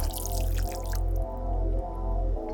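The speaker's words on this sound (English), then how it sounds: "We're going to add in some more water." Water is poured into a pot of liver and onions cooking on the stove, a close liquid pour with a bright splashing start that settles into a steady flow over a low pulsing hum.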